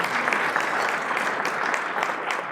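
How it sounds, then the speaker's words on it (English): Steady applause from a conference audience acknowledging rural telecom sponsors at a broadband adoption event, dense and even clapping with no voices heard. "give them a round of applause too"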